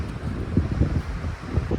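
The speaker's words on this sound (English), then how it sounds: "The wind is definitely still blowing. It's quite the storm out here." Storm wind blows over a snowy winter mountain campsite, a low rumbling buffet against the microphone with a few stronger gusts rising and falling, no voices.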